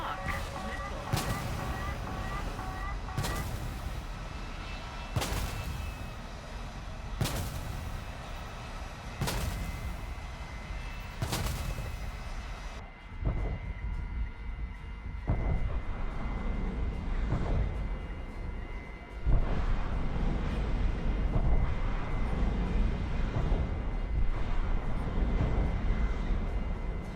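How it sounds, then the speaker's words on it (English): Aircraft missiles fired in the video game War Thunder: a run of evenly spaced sharp launch bursts over a steady engine roar, then a denser rushing roar that builds and holds loud to the end. "I have fired my missiles in a very bad way"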